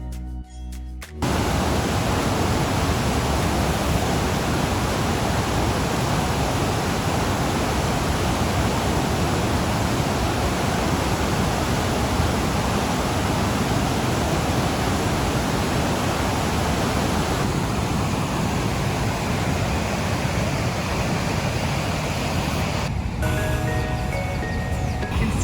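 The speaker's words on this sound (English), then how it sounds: "There's something soothing about the sound of waterfalls, so we're going to let you listen to that for a little bit." A powerful waterfall near Toronto roars as a steady, loud broadband rush of falling water, continuous and unbroken for the length of the recording after a brief quieter start.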